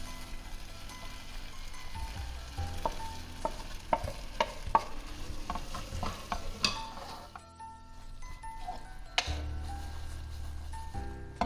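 Fried calamari being stirred into a butter garlic pan, close sizzling with repeated scraping and clinking of a spoon against the pan, briefly quieter before the sizzle returns.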